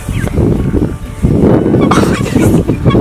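Black copper marans chickens cluck and murmur loudly at close range on a homestead, a dense burst of low throaty fowl calls with scattered higher peeps.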